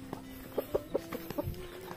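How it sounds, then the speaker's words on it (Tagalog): Chickens clucking close by, a quick series of short, soft clucks in an uneven rhythm over a low background hum. "Papakain lang ako ng manok, ha?"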